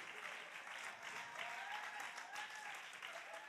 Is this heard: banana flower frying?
no